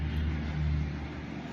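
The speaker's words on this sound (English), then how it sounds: "So many planes today." Steady low engine rumble of an aircraft passing overhead outdoors, moderately loud and continuous with no distinct peaks, with no voices.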